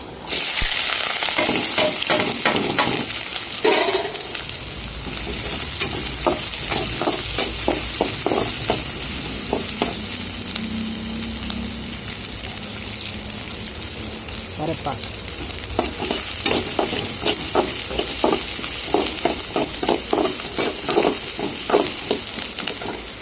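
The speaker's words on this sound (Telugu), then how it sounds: "ఇప్పుడు నూనె బాగా వేడైంది ఇందులో ఆవాలు ఆవాలు చిట్టపట చిట్టపట అన్న తర్వాత జీలకర్ర" Mustard seeds splutter and pop in hot oil, followed by cumin, with a constant loud sizzle, rapid crackling bursts and occasional stirring scrapes close by.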